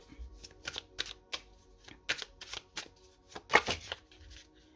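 Oracle cards being shuffled and drawn during a reading, a series of quick papery riffles and soft slaps in uneven bursts, close and fairly quiet, with no voice over them.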